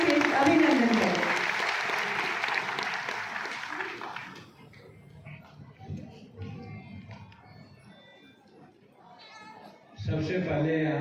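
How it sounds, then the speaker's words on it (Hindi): An auditorium audience in Ranchi gives loud, sustained applause to welcome India's Union Minister for Micro, Small and Medium Enterprises at a public event. The clapping fades after about four seconds into a quiet hall, and a voice begins speaking near the end. "जोरदार तालियों से अभिनंदन करें"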